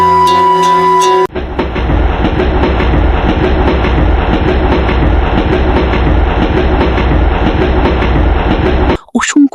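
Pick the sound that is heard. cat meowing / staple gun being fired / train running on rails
train running on rails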